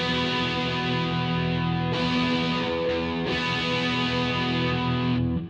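Sustained, heavily distorted electric guitar chords through a Marshall amp, in standard tuning, ringing out loud and thick, with a couple of chord changes before the final chord cuts off.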